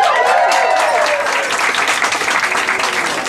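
An audience at a Stockholm event breaks into applause, busy clapping that starts with a few raised voices and then settles into steady, fairly close clapping.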